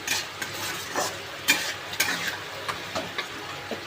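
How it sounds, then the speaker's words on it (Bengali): A curry being stirred in a pan with coriander leaves just added, giving repeated soft scraping and spoon strokes over a light sizzle, close and alone with no talk. "এবার আমি উপর থেকে ধনে পাতাটা দিয়ে দেব। একটু ভালো করে নেড়ে নেব।"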